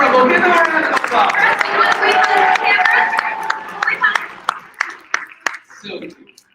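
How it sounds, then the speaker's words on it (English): An audience at a cosplay and crafts convention applauds, a steady dense patter that thins out into a few scattered, sharp individual claps near the end. "Give them a round of applause."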